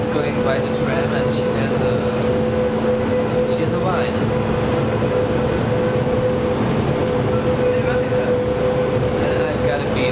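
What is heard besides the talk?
tram riding through city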